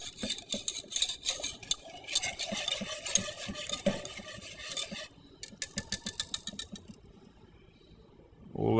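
A spoon stirs thickening cobbler filling in a pot, producing a steady run of scraping and clinking strokes that fade to near quiet at the end.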